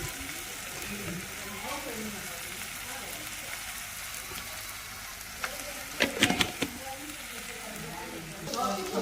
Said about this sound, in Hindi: अब इसको अच्छे से भून लेती हूँ मसाले को।